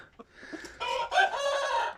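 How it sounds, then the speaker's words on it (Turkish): A local breed rooster crows once, close and loud, rising after a few soft clucks into a strong harmonic call that holds to the end. "Bunlar bizim yerli horozlarımız"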